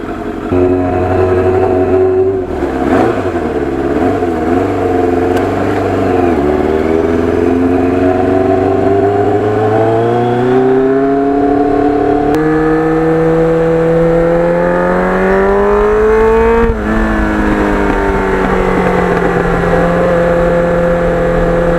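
A 750 Kawasaki Ninja motorcycle engine warming up and revving, loud and close, the idle pitch rising and falling through several slow revs over a constant engine drone.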